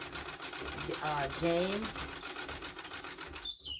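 A vintage 1926 treadle sewing machine stitching, a rapid steady mechanical clatter with rhythmic ticking pulses running continuously, while someone talks softly over the whirring needle action.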